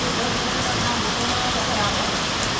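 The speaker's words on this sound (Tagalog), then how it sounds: "ang more than 1 hour ang ulan, napakalakas." Heavy, steady rain pours continuously in a flood-prone area during a long downpour with strong wind, a dense hiss filling the whole moment.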